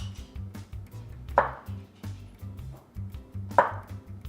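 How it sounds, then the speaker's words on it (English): A knife crushes garlic on a cutting board with two sharp, crunching presses about two seconds apart, among softer low thuds and handling noises. "you're going to take your knife and you're going to crush it"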